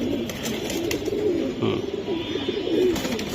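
Buira breed pigeons coo softly in a loft, low throaty calls rising and falling over a steady background murmur of other birds.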